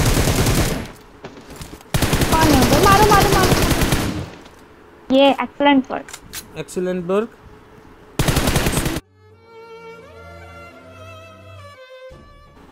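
Gunfire in the mobile shooter PUBG Mobile: loud, sustained automatic bursts of rapid shots in several rounds, with voices talking and tonal game sounds between the volleys.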